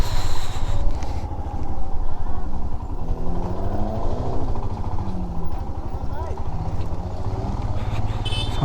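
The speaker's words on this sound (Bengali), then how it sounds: "সামনে সুইফটটা ফুললি মডিফাইড করা আছে। আর এত সুন্দর আওয়াজ হচ্ছে 4 সিলিন্ডারে" A fully modified Suzuki Swift with a four-cylinder engine runs nearby on a cold mountain road, its engine note rising and falling in pitch over a rumble of road and wind noise while a voice talks.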